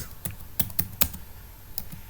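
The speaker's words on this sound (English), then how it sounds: "And now I'll type" Typing on a computer keyboard while entering text into an Excel spreadsheet, a few sparse, close key clicks at an uneven pace with short pauses between them.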